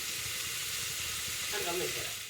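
Taro leaves sautéing in a pan give off a constant dense sizzle and hiss that holds steady throughout, close and even, with a slight shift in tone near the end.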